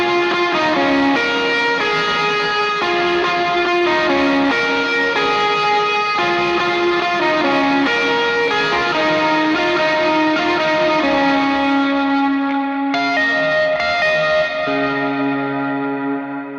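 Electric guitar played through reverb and delay with a higher-gain 385 drive pedal, a worship chorus of sustained distorted chords and ringing lines with echoing tails, steady and loud throughout, ending with a fading sustain.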